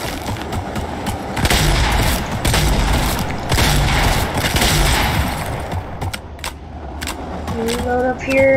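Gunfire in a video game, dense bursts of rapid shots and booms that run for several seconds, then a few scattered single shots and mechanical clicks, close and loud.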